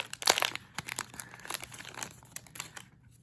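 Crinkling and tearing of a foil 2021 Chronicles NFL hanger pack of trading cards being ripped open up close, a burst of sharp crackles followed by softer rustling, with no talking.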